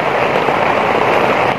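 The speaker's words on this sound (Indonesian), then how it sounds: "Bahkan sampai sekarang pun masih hujan." Heavy rain pouring down on a mountain, a dense, steady hiss of drops with no letup, loud and close, and no voices over it.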